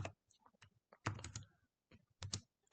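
Bursts of computer keyboard typing, close and fairly quiet, with separated clusters of keystrokes and short pauses between them, no talking.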